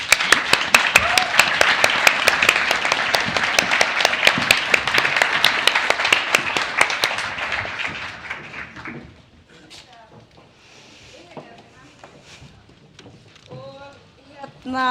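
A civic meeting audience in Reykjavik gives a loud, close burst of applause with crisp individual claps that fades out after about eight seconds, followed by a quieter stretch with people talking.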